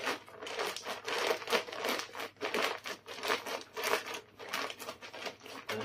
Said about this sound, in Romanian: Va trebui să-i amestec. Și voi amesteca în felul ăsta.